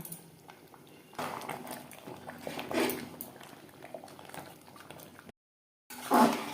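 Mutton curry with new winter potatoes simmers in a pot over a medium gas flame, giving a soft, steady bubbling and sizzle close by, with a brief gap near the end.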